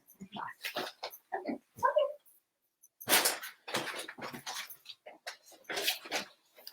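A dog named Coco makes a string of short yips, whimpers and barks in bursts, close by, with a brief pause midway and no talk over it.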